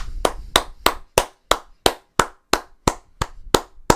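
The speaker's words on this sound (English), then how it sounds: "Round of applause to Kyle." Applause for a colleague from a small group, heard as about a dozen sharp, evenly spaced claps over four seconds, loud and near with no talk over them.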